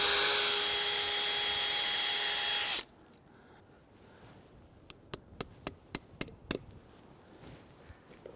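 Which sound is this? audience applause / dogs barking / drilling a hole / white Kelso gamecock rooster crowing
drilling a hole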